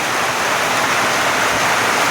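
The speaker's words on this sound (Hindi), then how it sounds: "अच्छी खासी बारिश आ गई है।" Dense, steady hiss of heavy rain pouring down on a farm, loud and constant with no pauses or voices.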